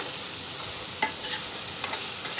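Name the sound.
frying tomatoes and onions in pan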